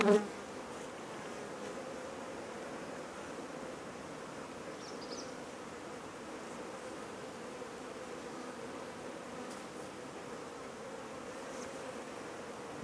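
Wasps buzzing steadily around a beehive during late-season brood removal, a continuous close hum with faint higher whines drifting past, no talk.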